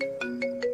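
A phone ringtone plays in three repeating electronic bursts, clear and fairly close, with no voice over it and nobody answering the call.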